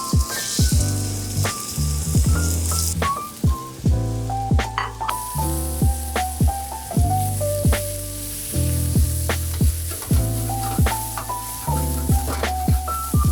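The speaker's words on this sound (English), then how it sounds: "we're gonna throw in the meat, we're gonna sear it" Meat searing in olive oil in a hot paella pan, a loud close sizzle with repeated sharp clatters and scrapes of stirring and tossing throughout.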